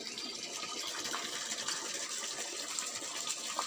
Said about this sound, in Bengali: জল ধরে নিচ্ছি